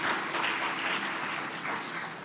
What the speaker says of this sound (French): Merci de l'applaudir, c'est le commissaire général des Jayli